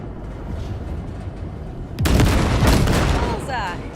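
Gunfire blasts wrecks in the video game Cyberpunk 2077, with a low rumbling backdrop that suddenly erupts into a loud booming burst of shots and explosions, then trails off into lingering rumble.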